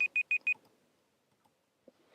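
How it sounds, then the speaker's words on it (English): A timer sounds four quick, bright electronic beeps in a steady rhythm, close and clear, then falls silent apart from a faint click. "there's my timer"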